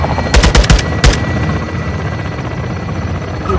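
Pre-assault fire support in a Modern Warfare II air base assault: loud heavy gunfire bursts early on, then a rumbling, rotor-like drone that carries on alone with no voices.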